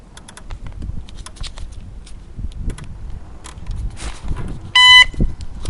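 A short electronic beep from an EcoBrand Buddy electric bike controller rings out near the end, clear and close, above a low background rumble and faint clicks.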